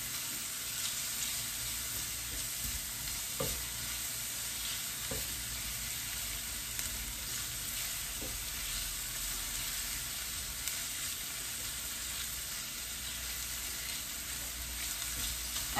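Onions and other vegetables sauté in a pan with a steady, even sizzle of moderate loudness. A few soft clicks of stirring are heard, and nobody speaks.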